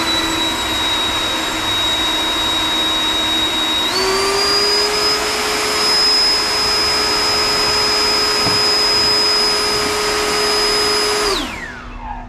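A Ryobi 40V HP brushless Whisper Series jet fan leaf blower runs with a loud, steady whining roar. Its pitch steps up sharply about a third of the way in and holds there, then spins down quickly at the end.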